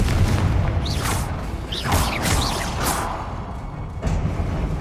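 Confringo explosion spells in Hogwarts Legacy thump and boom in quick succession over a dense, rumbling combat backdrop, with whistling streaks between the low blasts.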